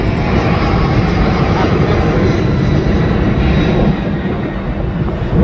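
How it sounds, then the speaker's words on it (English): KC-135 jet tankers doing touch and goes at Kingsley Field roar loudly and continuously, a broad steady jet-engine rumble that eases slightly toward the end. "KC-135s, doing touch and goes."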